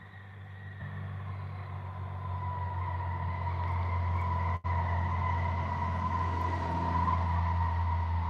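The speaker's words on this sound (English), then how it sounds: "Okay, that's a tow truck" A tow truck near a forest grinds along with a steady high brake squeal held over a low engine rumble, fairly loud and continuous, with one brief dropout midway.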